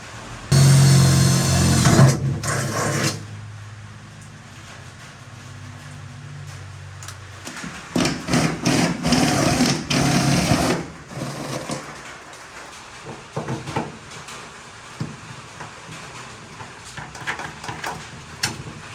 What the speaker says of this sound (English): So I'm going to use probably, I think it's 7mm drill bit